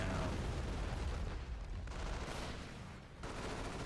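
Artillery barrage falling on a rifle squad in a World War II-style strategy game: a dense, continuous rumble of booming blasts and crackling fire, loud throughout, with commentary talk running over it.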